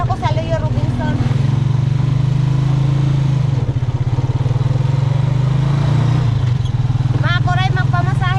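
A motorcycle rides along with a steady, loud mid-pitched engine drone and road rumble throughout, while people talk over it at the start and again near the end.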